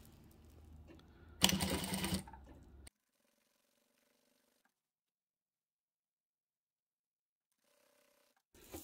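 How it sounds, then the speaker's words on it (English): A sewing machine briefly runs a short burst of top stitching on an oven mitt, with a loud, close mechanical whir. A softer low rumble comes before it, and then it stops into near silence. "just going to top stitch really close to the edge"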